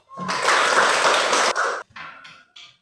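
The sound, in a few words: applause for every group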